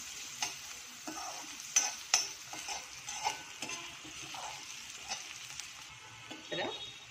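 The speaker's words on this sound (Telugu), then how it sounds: "ఇందులో ఈ ఆయిల్లో బాగా లైట్ బ్రౌనిష్ వచ్చినంత వరకు ఫ్రై చేసుకోవాలి." Onion slices frying in hot oil in a home kitchen, a steady soft sizzle with occasional stirring scrapes and clinks, fairly close and alone.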